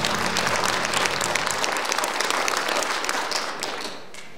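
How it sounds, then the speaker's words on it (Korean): Loud, warm audience applause welcoming the county head to the stage at the opening ceremony of a peace forum, dense clapping throughout that thins and fades near the end, with faint background voices. "따뜻한 박수로 환영해 주시기 바라겠습니다."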